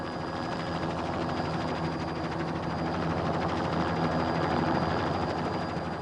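An air ambulance helicopter drones steadily with a continuous rotor and engine hum at moderate distance, holding an even level throughout without any talk.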